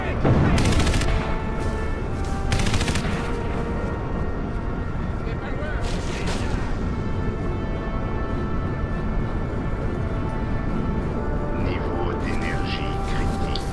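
Gunfire in Crysis Remastered, sharp bursts near the start and around the 6-second mark over a constant loud wash of game noise and engine drone, with someone talking throughout.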